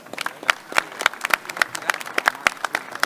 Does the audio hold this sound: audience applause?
yes